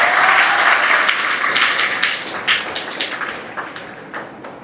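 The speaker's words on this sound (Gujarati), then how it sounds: "જોરદાર તાળી પાડી દો" Students applaud loudly at a natural farming camp, a dense burst of clapping that starts strong and gradually thins and fades over a few seconds.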